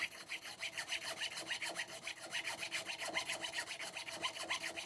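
A sanding block rasps back and forth over a guitar fretboard in quick rhythmic strokes, close and steady throughout.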